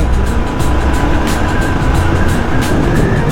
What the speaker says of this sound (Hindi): ये आप देख रहे हो, ये गाड़ी आगे जा रही है